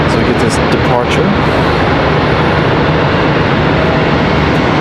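A Piedmont Airlines plane bound for Montgomery departs Charlotte Douglas International Airport, its jet engines making a loud, steady, continuous roar that fills the whole stretch.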